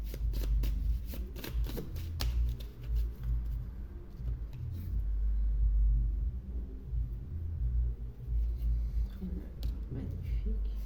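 Oracle cards being shuffled during a tarot-style reading, a soft steady papery riffling running through the whole stretch beneath a French-speaking voice.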